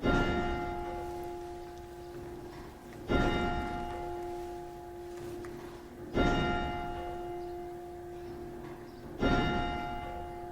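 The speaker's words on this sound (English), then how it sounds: "Didn't she hear the chime? You can hear it 10 miles around." A resonant town bell chimes the hour, struck four times at slow, even intervals, each ringing tone sustaining and decaying before the next strike, alone without talk.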